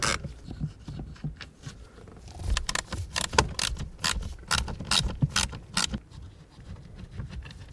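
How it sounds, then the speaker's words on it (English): An 8mm ratchet clicks in quick bursts while backing out two bolts holding a blower motor resistor to its housing on a 2009-2014 Ford F-150, close and fairly loud, with brief pauses between runs and no talking. "use an 8mm, remove these two bolts that hold the blower motor resistor onto this housing"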